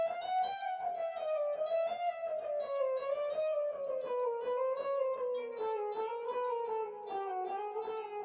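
An electric guitar plays a fast shreddy solo pattern that steps downward in pitch, with rapid picked notes running continuously and evenly at close range with no talking.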